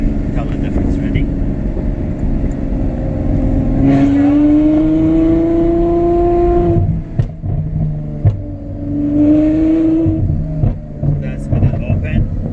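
Ferrari F12 V12 revved with its exhaust valves open, giving a close, loud rising blip that holds and falls away, then a second rev, with speech over the engine.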